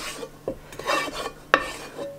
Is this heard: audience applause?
no